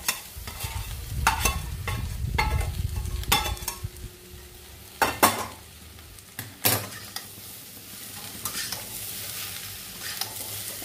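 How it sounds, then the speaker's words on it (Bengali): Fried onions are stirred into jackfruit in a sizzling frying pan, with a steady fry hiss and repeated scraping spatula strokes, some sharp, spaced over several seconds. "এই অবস্থায় পেঁয়াজটাকে এই এঁচড়ের মধ্যে দিয়ে দিই আমি, দিয়ে একসাথে নেড়ে নিই।"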